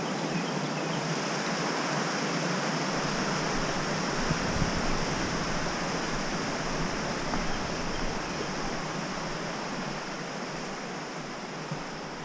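Steady, broadband rushing of a river along the Foothills Trail fills the scene, loud and continuous with no pauses, heard from nearby.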